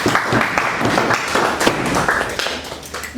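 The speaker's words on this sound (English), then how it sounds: "Clap it for the question." Students in a linear algebra class break into brief, loud clapping, a dense patter of hands close by lasting a few seconds.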